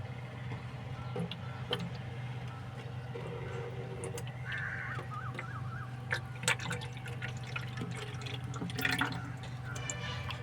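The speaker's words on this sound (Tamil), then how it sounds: "இப்போ நம்ம தயாரித்த அந்த இதை ஃபில்டரில் ஊற்றுறோம்." Homemade organic pesticide of neem leaves, hibiscus and aloe vera is poured through a filter, giving a soft, steady trickle and drip outdoors over a low hum, with crows cawing now and then.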